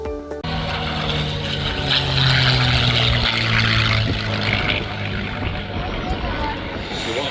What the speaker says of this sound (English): Doug Roosevelt fly this airplane.